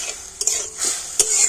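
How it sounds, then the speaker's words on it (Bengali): Sugar and water stirred in a pan to make syrup, a soft sizzling hiss with a few quick scrapes and taps of a utensil against the metal. "আর এবার আমি নাড়াচাড়া করে একটা শিরা তৈরি করে নেব"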